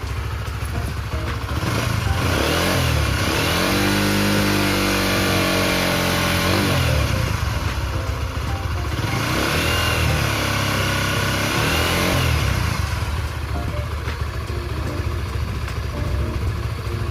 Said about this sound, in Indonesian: RPM akan gue naikin sekitar di 3000 atau 4000